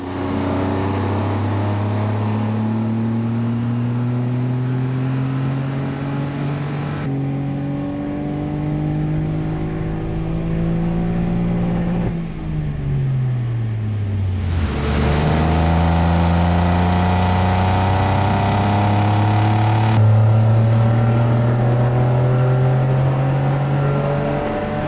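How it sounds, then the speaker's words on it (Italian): A Toyota Yaris GR with a Stage 2 tune, running 100-octane fuel on a dyno, revs loudly and steadily through repeated pulls, its pitch climbing in long sweeps between brief drops; no voices. "le rullate di oggi le andremo a fare con benzina 100 ottani"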